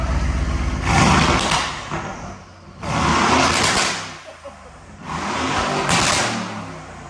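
Aston Martin Vantage in track mode with an aftermarket exhaust, three loud close revving bursts, each swelling to a roaring peak and falling back to a burbling idle between them.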